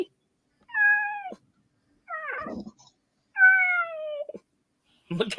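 A house cat gives three clear, close meows, each a drawn-out tonal call separated by short pauses, with brief rustling noise at the end.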